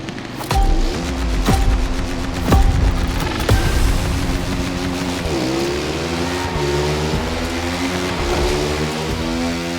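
KTM motorcycle engines in the racing game The Crew Motorfest rev loudly and steadily with rising and falling pitch through gear shifts, punctuated early by a few sharp knocks, with no talk.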